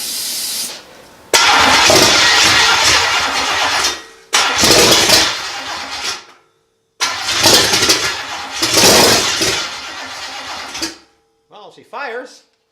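A Buick 401 Nailhead V8 cranks and fires in repeated loud bursts, churning for a few seconds at a time with abrupt cut-offs between attempts, close up, followed by a brief spoken voice at the end.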